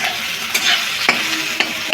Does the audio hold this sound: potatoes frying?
yes